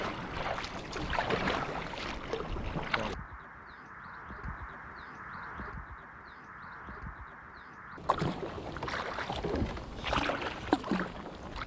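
A kayak is paddled through calm water in wild Alaska, steady soft splashes and drips close by, with a quieter gliding stretch in the middle and faint birds and light wind in the background; no talking.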